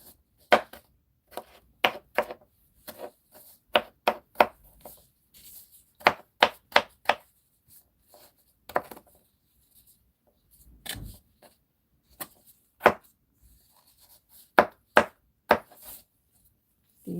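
A knife chopping and dicing vegetables on a cutting board, crisp close thuds in quick bursts of several strokes separated by short pauses.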